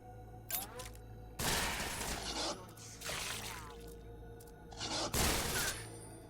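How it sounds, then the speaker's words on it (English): Bursts of enemy gunfire in the video game Resonance of Fate, several loud volleys arriving in clusters with short gaps between them, set over steady game music. "Would you stop firing from off-screen"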